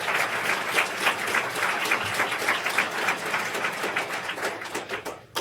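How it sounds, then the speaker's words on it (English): Sustained applause from an audience honoring a moot court competition team, dense and steady clapping filling the room from start to finish before fading slightly at the end. "Let's give them all a round of applause."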